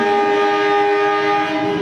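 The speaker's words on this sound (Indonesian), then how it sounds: "kereta api yang 4 hari berikutnya akan saya naiki, yaitu kereta api Singasari dari stasiun Jakarta Pasar Senen hingga stasiun Blitar" Singasari passenger train at Jakarta Pasar Senen station, a steady loud tonal hum with sustained horn-like harmonics, close and continuous with no talk.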